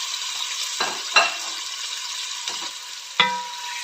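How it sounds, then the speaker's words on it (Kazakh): Meat frying in hot oil for homemade pilaf, a soft steady sizzle broken by a few sharp spatters and utensil knocks as it is stirred, close with no talking. "Мына етім қуырылып жатыр"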